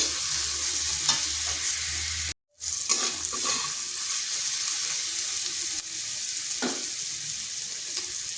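Onions frying in a pan for a pumpkin and egg curry, a continuous close sizzle broken by a brief silent cut, with occasional spatula scrapes and stirring clatter throughout.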